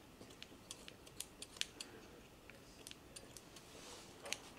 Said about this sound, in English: I've taken my scissors and then just cut just a little bit.